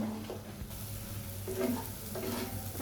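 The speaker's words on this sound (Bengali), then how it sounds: "সবগুলো উপকরণ আমি আবার মিশিয়ে নেব।" Spices with coriander powder and salt stirred and mixed in a hot pan for a vegetable curry, a steady scraping stir over continuous close sizzling frying.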